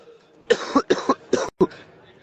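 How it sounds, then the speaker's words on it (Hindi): A person coughs in a quick run of five or six short, close, fairly loud bursts with brief gaps, followed by quiet. "देखो गला भी खांसी आ रही है।"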